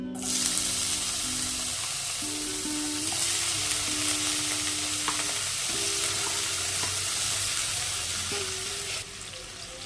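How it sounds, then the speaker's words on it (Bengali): Shrimp frying in leftover oil in a wok after potatoes were fried, a steady loud sizzle with occasional stirring scrapes throughout, close up and without talk. "এই তেলেই দিয়ে দেব চিংড়ি"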